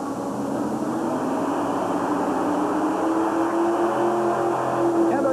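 A loud, steady naturally aspirated tractor pull engine roar drones on continuously at a 1991 Tallahassee event, heavy and throaty, with a rising tonal whine near the end; no voices stand out.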